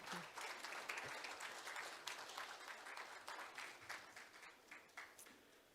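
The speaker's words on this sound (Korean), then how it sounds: "큰 박수로 맞아주십시오." An audience applauds steadily to welcome a speaker at a 2022 university leaders' forum, with dense, sustained clapping that fills the whole stretch and slowly thins toward the end.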